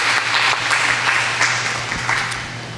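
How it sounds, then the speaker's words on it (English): Steady applause from an audience at a cannabis candidate forum, honoring city council candidates, a dense wash of clapping that holds for the whole stretch and tapers slightly toward the end. "Can we give them a round of applause?"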